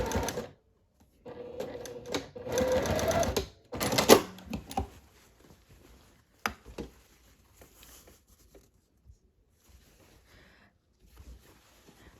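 A sewing machine stitches a shirt placket in a few short bursts near the start, then stops, leaving mostly quiet handling sounds and small clicks.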